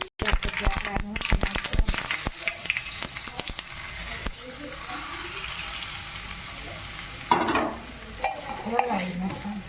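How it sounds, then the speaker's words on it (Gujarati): A spoon stirs Gujarati patra in a frying pan with a fresh tempering, scraping in rapid strokes over a steady sizzle, and a voice speaks briefly near the end. "હલાવી નાખવાનું."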